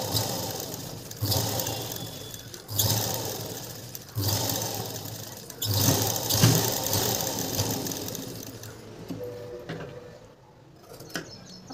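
A sewing machine stitches a blouse lining in repeated bursts of rapid mechanical whirring. The bursts are separated by short pauses and fade toward a quieter stretch at the end.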